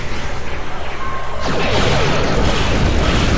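In the Star Trek Online video game, a proton burst goes off as a loud, sudden blast that swells into a sustained, rumbling roar, following a pulsing mechanical hum.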